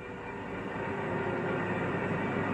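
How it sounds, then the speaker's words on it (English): A passenger train pulls out of a station with a steady, loud rumble of rolling wagons and faint clickety-clack, building slightly and continuing without pause, no voices. "1 minute later, the passenger train pulls out of the station."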